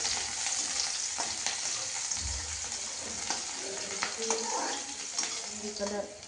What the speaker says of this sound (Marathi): आता त्यात कांदा सोडलेला आहे। थोडं परतून घेऊ त्याला।